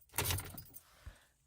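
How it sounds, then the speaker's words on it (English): Car keys jangle close by in a short metallic burst of rattling and clinking, quickly fading to a light clatter. "Get my keys."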